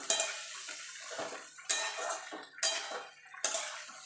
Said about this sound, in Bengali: এবার আমি ভেন্ডিটা দিয়ে দেবো দিয়ে ভেন্ডিটা ভালো করে মিশিয়ে নেবো